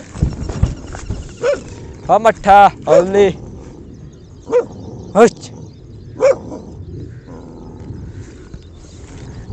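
A dog barks in a Punjab village, a handful of short, separate woofs spread across the clip, with someone talking close by in between.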